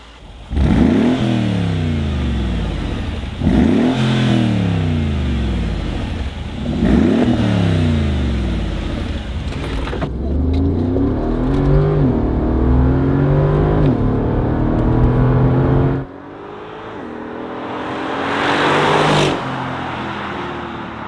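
Stock Mercedes G-Wagon engine revved hard in a few loud, rising bursts, then held in a sustained roar and a final swell, close and alone with no talk.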